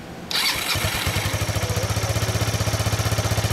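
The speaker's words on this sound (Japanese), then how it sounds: "ごめん、エンジン音聞かせてもらえる、これ、どこのマフラー" A 2014 Kawasaki Estrella motorcycle with its stock exhaust starts up and settles into a steady, lumpy idle with a rapid rhythmic pulse, close and fairly loud.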